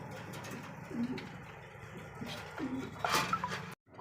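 Jharna satin pigeons cooing softly at close range, a few short low coos spaced apart against a faint background, with a brief metallic clatter near the end.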